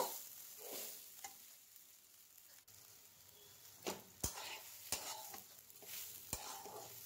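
Rice and moong dal fry quietly in a pan, a faint low sizzle broken by several sharp scrapes and taps of a spoon stirring against the metal.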